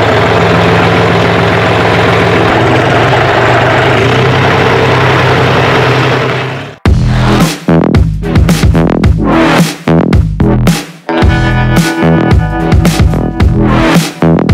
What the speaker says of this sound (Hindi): मल्टी क्रॉप थ्रेसर है जी